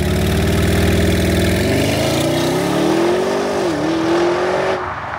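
Audi RS Q8 engine running loud and close, a steady throaty drone that rises in pitch as it revs, dips briefly, then climbs again before cutting off near the end.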